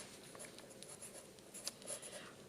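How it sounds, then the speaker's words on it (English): A pen or pencil scratching out measurements on paper during an architectural drawing lesson, faint and close, with light irregular strokes and brief taps. "And I can write that right here for you."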